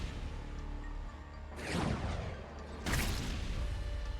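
Weapon explosions in the game Wall World 2: two heavy blasts, each a sudden loud burst that fades, rising over a steady background rumble.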